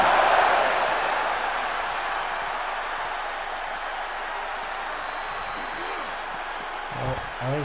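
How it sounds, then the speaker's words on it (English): A wrestling crowd cheers and applauds, loud at first and then settling into a steady roar that gradually fades a little. "And the crowd really enjoying that"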